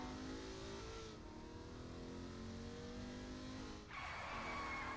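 A car in the video game Saints Row IV revving hard and drifting, a loud, sustained engine whine with rising pitch and tire squeal, a brief dip, then a fresh surge of revving, no speech.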